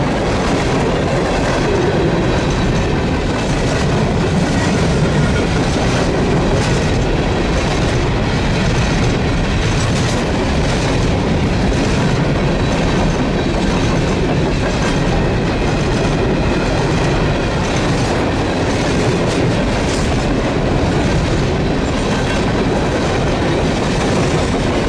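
Eastbound freight train passing through a rail trench, loud and steady throughout with rhythmic clickety-clack of wheels over rail joints and occasional faint wheel squeal, no voices.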